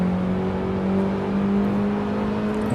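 A race car engine in a PS4 racing sim hums at a steady, close, droning pitch with a faint whir, holding nearly level throughout with no talking.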